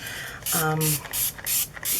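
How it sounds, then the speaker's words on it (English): Several short bursts of spray from a bottle of soapy water mixed with Sunlight dish detergent, misting craft stencils being cleaned, with a brief tonal squeak in the middle. "I'm just spraying the stencils after the rubbing alcohol"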